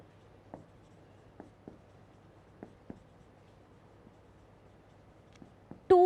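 Writing on a board during a thermodynamics lecture in a quiet room, heard as faint, spaced taps and short scratchy strokes, cut off at the end by a brief loud tone.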